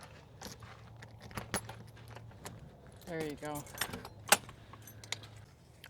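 Keys jangle and scrape at a campsite door lock as someone tries different keys, with a couple of sharp metallic clinks and a brief spoken remark, over a low steady hum.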